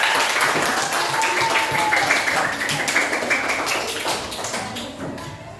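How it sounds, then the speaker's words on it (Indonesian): A class applauds as the second group steps up to present during a coding and artificial intelligence training session, a dense, steady patter of many hands clapping close by for several seconds, with some voices mixed in. "Tepuk tangan untuk kelompok 2"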